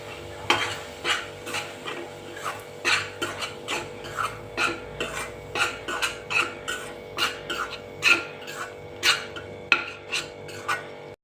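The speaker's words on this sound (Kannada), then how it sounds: "ಈಗ ಇದೇ ತುಪ್ಪಕ್ಕೆ ನಾನು ಹಿಟ್ಟು ಹಾಕ್ಕೊಳ್ತಾ ಇದ್ದೀನಿ" Wheat flour roasting in ghee for halwa, stirred with a utensil against the pan in steady scraping strokes roughly every half second, close and clear with no talking.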